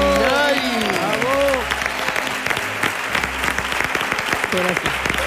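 A standing audience at Río Grande del Guadaira bursts into loud, sustained applause for a flamenco singer, dense clapping filling the space while voices call out and shout over it.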